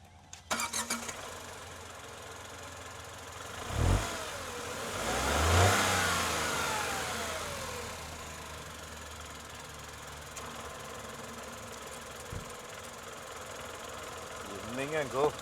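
A 2025 Tata Altroz diesel car cranks and fires up with a short burst, revs briefly, then settles into a steady, low idle hum close by, with a voice heard over the engine.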